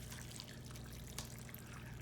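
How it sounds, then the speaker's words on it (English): Chicken stock pours into a casserole dish of rice in a soft, continuous trickle with faint splashy flecks, quiet and close, with no talk. "I have 2 cups of chicken stock. I'm gonna pour this in there."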